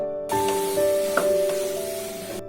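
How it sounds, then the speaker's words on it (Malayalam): Thinly sliced onions hit hot oil in a pan for a South Indian mutton curry, bursting into a loud, steady sizzle with a faint clink of a spoon partway through. "നീളത്തിൽ നൈസായിട്ട് അരിഞ്ഞു വെച്ചിരിക്കുന്ന സവാള നമുക്കിതിലേക്ക് ആഡ് ചെയ്യാം. എന്നിട്ടൊന്ന് നന്നായിട്ട് വഴറ്റി കൊടുക്കുക."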